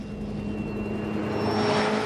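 A McLaren sports car with a 3.8-litre twin-turbo V8 engine gives a steady whirring drone that swells slightly toward the end, close and clear without speech.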